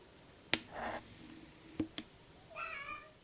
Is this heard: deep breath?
no